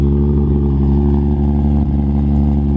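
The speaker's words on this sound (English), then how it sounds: "That exhaust never gets old." A Toyota Supra runs close by while warming up, its exhaust giving a loud, steady, deep idle rumble with strong low harmonics and a slight flutter, alone without talk.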